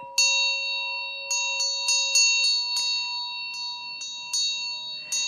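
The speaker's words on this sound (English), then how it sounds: "when I ring my bell" A small bell rung about a dozen times in uneven bursts, each strike a bright, ringing metallic tone that decays between hits, close and alone with no talking.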